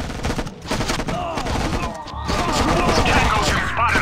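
Rapid bursts of gunfire and scattered shots crackle through a battle in the strategy game Act of War: Direct Action, dense and loud for a few seconds, with radio-style voices shouting over the shooting.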